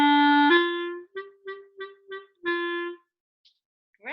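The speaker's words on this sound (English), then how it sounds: "we've got these staccato quavers? It means that you need to play those short and spiky" Reed instrument plays a sustained note, then a run of short, spiky staccato notes evenly spaced like a hen pecking, followed by a held note, solo and close.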